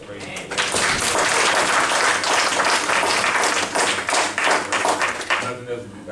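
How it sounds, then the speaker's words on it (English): A church congregation gives a hand clap of praise at a worship service: a loud burst of many hands clapping that swells quickly, carries on with distinct individual claps, then thins out and fades toward the end. "So we give the Lord a hand clap of praise."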